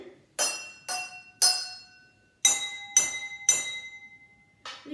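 A drinking glass filled to the top with water is tapped like a percussion instrument, giving seven clear ringing clinks in an uneven rhythm, each decaying quickly, close and alone.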